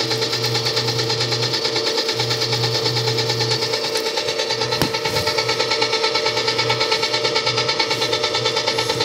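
A Hobart N50 stand mixer works dough with its dough hook, giving a loud, steady mechanical whir with a rhythmic pulsing hum that runs without a break, close by.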